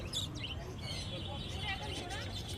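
Several rosy-faced lovebirds chirp and chatter with high, busy calls over a steady background murmur, close by, at a bird market.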